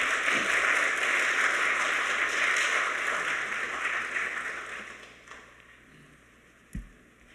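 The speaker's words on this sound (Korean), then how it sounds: "우리 목사님 큰 박수로 모시도록 하겠습니다. 큰 박수 하겠습니다." A church congregation claps loudly and steadily to welcome the pastor to the pulpit at a dawn prayer service, the applause fading out toward the end, with one last sharp knock near the close.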